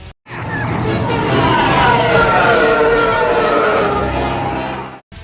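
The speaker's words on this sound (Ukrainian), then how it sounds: "звук тієвинищувача це рев слона, накладений на вереск автомобільних покришок по мокрій бруківці" A Star Wars TIE fighter's scream, built from an elephant roar layered over car tires skidding on wet cobblestones, rises into one loud, continuous, wavering shriek that lasts about five seconds with no other sound.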